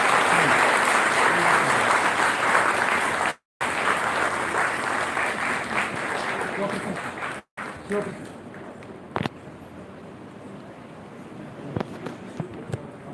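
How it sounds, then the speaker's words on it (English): Audience applause at a school investiture ceremony, a sustained dense clapping from a crowd that breaks off twice and then thins to scattered claps near the end. "Let's give him a big round of applause."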